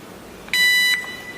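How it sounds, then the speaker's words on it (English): A MAXKIN X1 GSM security alarm control panel gives one short, clear electronic beep, lasting under half a second, in an otherwise quiet room. "press and hold the enroll button for 6 seconds until one beep is"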